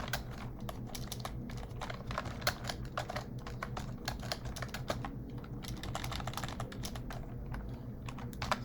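Steady keystrokes on a computer keyboard as a phone number is entered into a text box in Adobe InDesign, close and continuous over a low background hum for about eight seconds.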